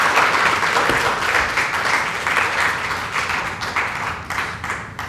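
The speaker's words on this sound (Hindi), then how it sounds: "एक बार जोरदार ताली से स्वागत करिए" Audience applause for a guest being welcomed onto the stage at a gathering, dense sustained clapping from a crowd, loud and continuous, tapering slightly at the end.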